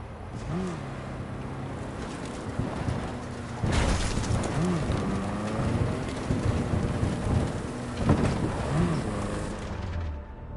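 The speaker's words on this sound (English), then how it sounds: "That is one hell of a storm!" Thunderstorm with rain in the video game Cyberpunk: steady rain hiss throughout with two loud thunder cracks and rumbles, plus low droning tones underneath.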